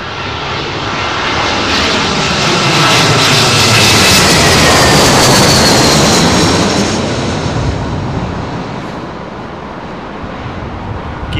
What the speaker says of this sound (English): Dreamliner looks so beautiful with her gear up, doesn't she?